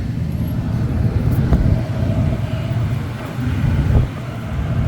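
Steady low rumble of a car driving, heard from inside the cabin, with road noise and faint wind, continuous and moderately loud with a small knock near the end.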